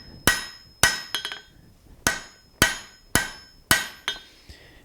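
Hammer blows forging a steel bar into a leaf shape at a blacksmith's anvil: sharp, ringing metallic strikes in a steady series, about eight loud close hits with a quick bounce of lighter taps, no talk.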